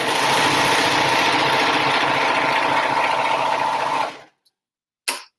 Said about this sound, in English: with the serger, what it does is it weaves itself so it has a loop